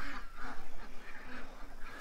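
Ducks quacking at a backyard pen gate during feeding, a steady run of nasal calls repeating through the whole stretch, fairly loud and close with no voices over them.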